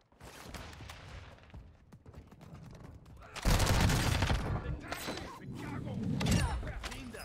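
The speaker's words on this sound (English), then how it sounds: "Friendly precision airstrike inbound" A precision airstrike in Call of Duty Warzone on Ashika Island hits after scattered gunfire, arriving as a sudden loud roaring barrage of explosions that rumbles on with a second surge, mixed with speech.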